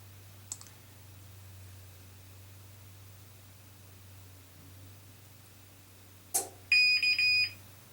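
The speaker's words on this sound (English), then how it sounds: "And then beep beep beep, F01 code." Sears Kenmore HE3 dryer showing an F01 error code: a click, then a low electrical hum, then a sharp clunk and a quick series of loud, electronic beeps near the end.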